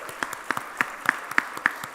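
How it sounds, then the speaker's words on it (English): Sparse, scattered hand claps from a small group at a conference, a few distinct claps per second, fairly near, with no talking. "can we have a massive round of applause for Ajit and the team"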